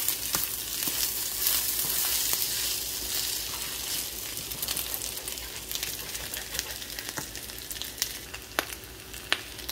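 Leftover white rice fries in a pan with added oil while being stirred. A steady, close sizzle runs throughout, broken by scattered spoon clicks and scrapes.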